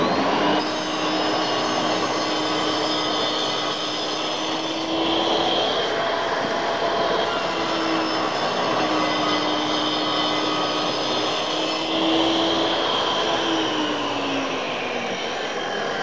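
A Triton MK3 workcentre making a light shaving cut in timber, a steady whining machine drone running continuously for the whole stretch with slight shifts in pitch and no talk over it.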